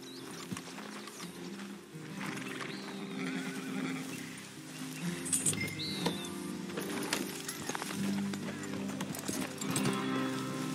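In the video game Red Dead Redemption 2, a ridden horse clip-clops along at a steady pace with whinnies and neighs. Game ambience and low voices run underneath.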